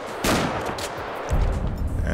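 Shotgun blasts in GTA 5 with the Real Immersive Gun Sounds mod: two heavy booming shots, each with a long rumbling tail, loud and close with no voices.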